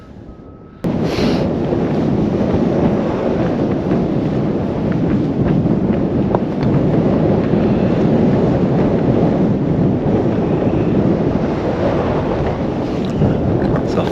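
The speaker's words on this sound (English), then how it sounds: "because it's windy up here" Strong, steady wind roars across the microphone on an exposed Dartmoor tor, a loud continuous buffeting rush that fills the whole stretch after a brief quieter opening.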